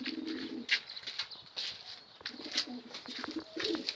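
Pigeons cooing on a rooftop loft, low soft coos repeating in short phrases with brighter chirps and flutters mixed in, close and moderately loud throughout.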